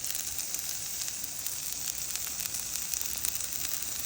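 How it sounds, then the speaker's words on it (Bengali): Onions and chillies frying in a pan until browned, a steady loud sizzle with crackling that continues evenly without pause. "এই তো পেঁয়াজ মরিচ প্রায় ভাজা আমার শেষ।"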